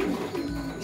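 A racing pigeon coos softly, a low warbling call rolling on steadily through the short moment.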